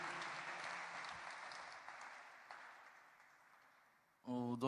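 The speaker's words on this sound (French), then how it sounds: "On peut acclamer pour le Seigneur" A church congregation applauds in a continuous wash of clapping that slowly fades over several seconds, and then a voice starts speaking.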